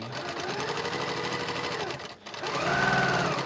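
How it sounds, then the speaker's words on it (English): Home sewing machine stitching quilt fabric, a rapid even mechanical whir and needle chatter running steadily, briefly stopping before restarting slightly louder, close and alone. "they've gone through my sewing machine consistently all the way along"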